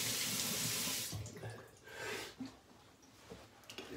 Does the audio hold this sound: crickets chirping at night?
no